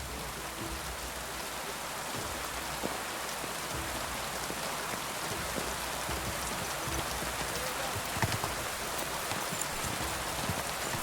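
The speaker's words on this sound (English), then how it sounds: "Oh, I love the rain in this game." Steady rainfall in the medieval open-world game Kingdom Come: Deliverance II, a dense even wash of drops pattering on surfaces, loud and continuous throughout with no talk.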